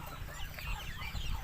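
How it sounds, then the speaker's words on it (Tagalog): Chickens clucking around feeding time in a backyard flock kept alongside ducks, soft overlapping clucks and chatter close by under a low, steady background. "ang papakainin naman natin ngayon ay yung manok at saka yung mga pato"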